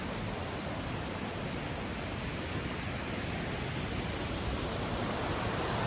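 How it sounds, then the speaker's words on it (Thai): Water rushes steadily at the base of a natural waterfall among rocks in Surat Thani, Thailand, a constant, even wash of noise with no voices. "นี่คือทางท่านทางล่างของน้ำตกนะครับ"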